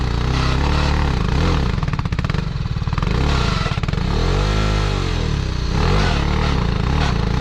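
A motorcycle engine revs and rises in pitch as the clutch is released at an off-road event, loud and close, with a rough clattering roar and swelling throttle surges.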